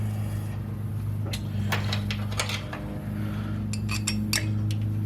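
Metal screws removed while deleting the EGR cooler on a Ford F250/F350 6.7 Powerstroke are tossed into a container. Two short bursts of bright, rattling clinks sound close by over a low, steady hum.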